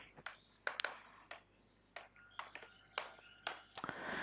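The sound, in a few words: typing a command on a computer keyboard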